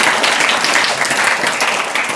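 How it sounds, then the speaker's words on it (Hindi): An audience at a school farewell day celebration at Salfia Educational Institute in Russu Narbal breaks into dense, sustained applause, many hands clapping loudly and close together. "जोरदार तालियां इनके लिए।"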